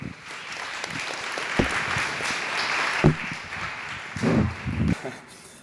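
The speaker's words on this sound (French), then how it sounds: "applaudissez-le parce que c'est une première pour lui" Audience applause for a first-time speaker at a talk, a dense patter of clapping with a few louder bursts and brief voices mixed in.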